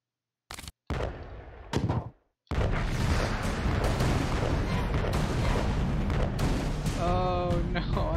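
Cannon fire in the video game Alice Madness Returns: a couple of sharp booms, then a heavy sustained roar of blasts and rumble, loud and close.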